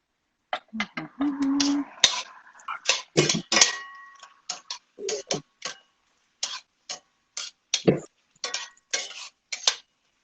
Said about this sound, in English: So I throw the shrimp back in right now. Okay. Just going in. and toss that with the sauce.